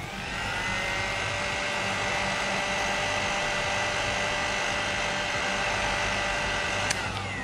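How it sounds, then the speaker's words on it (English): A heat tool blows steadily close by, a constant loud airy whoosh with a fixed hum, aimed at resin drips on a craft piece. A single sharp click sounds near the end. "You just have to heat the drips and remove it."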